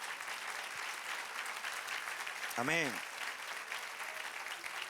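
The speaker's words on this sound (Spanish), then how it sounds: "Dale un aplauso al Señor otra vez." Sustained applause from a church congregation during a sermon, a steady dense clapping wash with one brief voice calling out midway.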